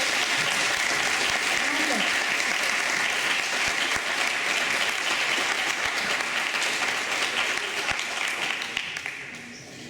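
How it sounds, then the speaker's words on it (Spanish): An audience at a talk gives sustained, dense applause for two professors, steady and fairly loud before thinning slightly toward the end. "un aplauso para ellas"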